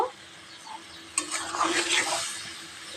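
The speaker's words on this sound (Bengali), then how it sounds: "এটাকে ভালো করে আমি আবার একটু নেড়ে দেব।" Chopped tomato and green chilli paste is stirred in a pan over low gas, giving a soft sizzle and a sudden clatter of spoon against metal partway through, close by and without speech.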